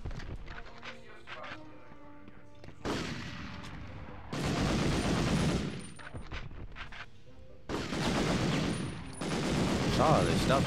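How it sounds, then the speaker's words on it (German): Bursts of submachine gun fire from Medal of Honor come in loud, dense rattling volleys separated by quieter gaps, with some speech and game sounds between them. "Und hier gibt es viele Gegner, die halt eine MP benutzen."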